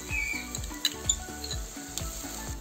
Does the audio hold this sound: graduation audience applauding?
no